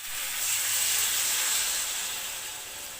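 Water poured into a hot pan of turnip curry sets off a loud, steady hiss of steam that swells and then slowly fades.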